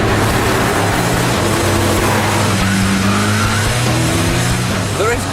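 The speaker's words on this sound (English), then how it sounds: "There is quite a lot of turbo lag with this big V8" A Gumpert Apollo S with a big 700-horsepower twin-turbo V8 roars steadily under load from inside the cabin, a dense, loud engine drone with rising pitch sweeps, while someone talks over it.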